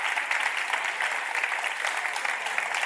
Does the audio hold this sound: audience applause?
yes